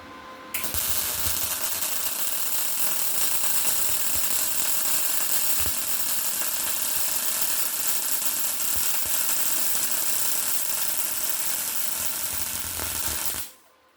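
MIG welder running a push bead across steel: a steady, loud crackling buzz that starts abruptly, holds unbroken for about thirteen seconds and then cuts off.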